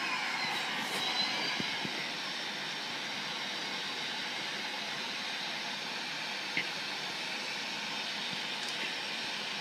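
Airplane engine in a flight simulator game just after takeoff, a steady even drone holding at a constant moderate level with no talk over it.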